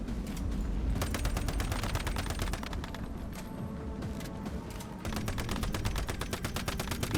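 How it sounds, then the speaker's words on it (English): Rapid automatic gunfire from a player shooting at the Manibus boss in the video game Once Human, loud and continuous bursts of shots with a short lull in the middle before firing resumes. "I shoot that tentacle"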